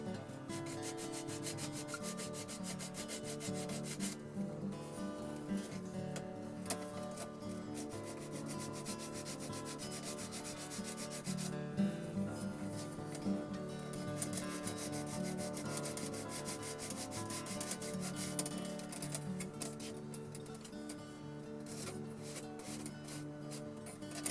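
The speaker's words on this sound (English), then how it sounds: "I'm just going to go back and I'm going to sand off these little bits of extra" Continuous soft rubbing and scraping of sanding sticks smoothing off excess material on a Walthers Union Station model railroad kit at close range, with steady background music running underneath throughout.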